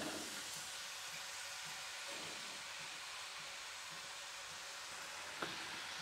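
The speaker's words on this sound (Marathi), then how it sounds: "आणि आपले असेच बाकीचे सगळे कडबोळे तळून घेते" Kadbole dough snacks deep-frying in hot oil over medium heat give a steady, dense hiss and sizzle throughout, with one brief sharper crackle near the end and no talking.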